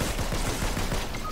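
Rapid bursts of energy-weapon fire in the Fortnite video game, a quick string of repeated shots at moderate level over a noisy battle background.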